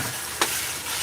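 Store-bought minced garlic sautéing in a pan for fresh tomato basil pasta gives a steady, close hiss of frying, broken once by a short, sharp scrape of stirring, no voices.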